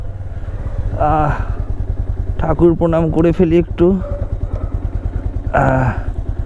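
A Bajaj Avenger 160 motorcycle engine thrums steadily close by while someone talks over it.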